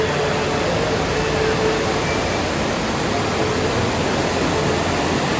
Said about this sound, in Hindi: आप यहाँ पानी के बहाव की आवाज सुनिए कितनी तेज है